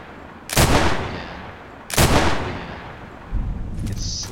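Two loud, sharp gunshots fired about a second and a half apart in the shooter game Contract Wars during sight testing at range, each with a long decaying tail, then a fainter mechanical rattle toward the end.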